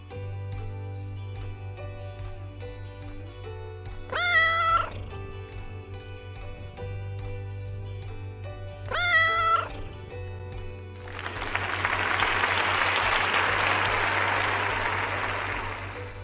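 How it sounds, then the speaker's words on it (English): A cat meows twice, clear and close with a few seconds of quiet between the calls, set against a soft musical background, then a burst of applause follows. "What sound does a cat make?"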